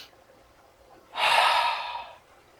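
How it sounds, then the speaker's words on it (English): A relaxing breath exercise of two quick inhales through the nose followed by one long exhale out the mouth; a soft breathy rush of air is heard once, close and alone against near silence. "2 inhales through the nose followed by an exhale out the mouth."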